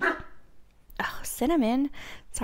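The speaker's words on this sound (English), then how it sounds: "that was my dog" A dog close by gives a sharp bark followed by a longer whining bark, with a person speaking briefly around it.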